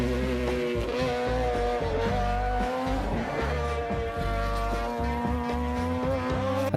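A race car powered by a Suzuki Hayabusa motorcycle engine drives hard, its high-revving engine note rising and falling steadily and loudly throughout, with some tire squeal.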